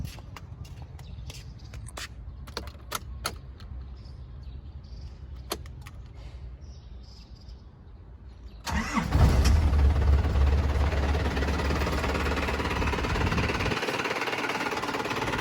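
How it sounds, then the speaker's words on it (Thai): A few quiet clicks and taps, then a 1998 Isuzu Adventure 2.8 diesel 4WD pickup engine cranks and catches at once, settling into a steady, loud, rumbling idle close by. "โอเคนะครับ เดี๋ยวผมจะสตาร์ทนะครับ"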